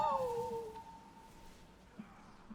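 A single short cat meow, falling in pitch, close and fairly loud, then fading into quiet room noise with a couple of faint clicks.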